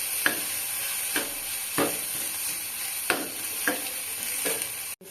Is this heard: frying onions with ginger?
yes